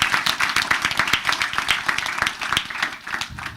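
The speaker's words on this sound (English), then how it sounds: "Give them a big round of applause on first thing." An audience applauds at a township committee meeting with a crisp patter of individual hand claps, close and fairly loud, fluctuating slightly as the clapping continues without voices.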